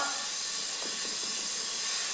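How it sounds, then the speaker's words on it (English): Water steams thin asparagus spears in a kitchen, a steady, even hiss that holds throughout. "the last way of cooking asparagus is, as I said, the traditional. So we're going to steam"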